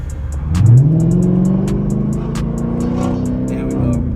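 A Dodge Charger R/T engine drones steadily while driving, with a revving rise early on, then a sustained mid-pitched hum under a faint voice and ticking interior sounds.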